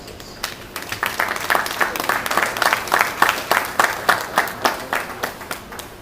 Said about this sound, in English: I'd therefore like you to give a big round of applause to all the organizers.